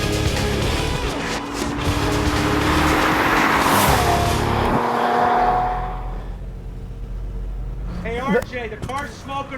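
A Chevrolet Camaro race car, Big Red against a 2014 Camaro Z/28, roars loudly on a track with a sustained engine note that rises and then drops away, and voices come in near the end.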